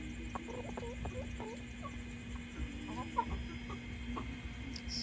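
Lavender Wyandotte and Plymouth Barred Rock chickens cluck in short, scattered calls close by, over a steady low hum in the coop.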